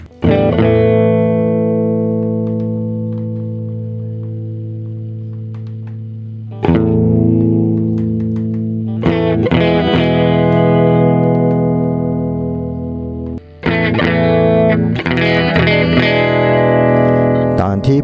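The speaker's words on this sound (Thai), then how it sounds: "เราลองไปบูเสียงแตกมันดูนะครับ เพิ่มเกณฑ์ดูเข้าไป" Sustained distorted electric guitar chords ring out through a Hotone Omni IR cab simulator, each held and decaying before the next strum, loud and saturated with no talking.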